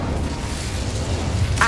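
Incendio fire spell cast in Hogwarts Legacy inside a small mine: a low, steady rumbling roar that swells briefly into a brighter whooshing burst near the end.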